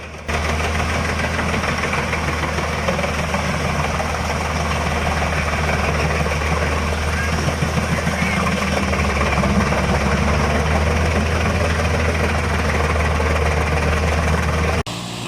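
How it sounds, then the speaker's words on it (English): A Kesla C645S wood chipper, fed logs by a Kesla 305T loader, roars steadily at close range with a heavy, continuous engine drone and grinding rumble from start to finish, with no talk. "The Kesla C645S wood chipper is hard at work, fed seamlessly by the agile Kesla 305T loader."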